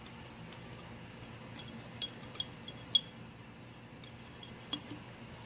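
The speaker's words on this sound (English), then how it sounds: "Put the baking soda first. Then stir." A spoon stirring baking soda in a glass gives faint, sparse clinks and taps against the glass, a few sharp ticks scattered over quiet background hiss.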